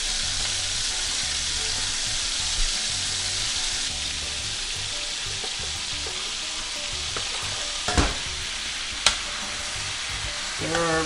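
Browned chicken and the rest of the fettuccine ingredients sizzle and fry steadily in a pan while being stirred, with a few sharp utensil clacks near the end and no talking.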